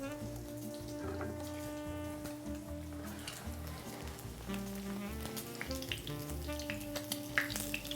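Knish, croquets or similar food frying and browning in a hot pan, a steady dense sizzle with scattered pops and crackles that runs close and continuous throughout, with no talking.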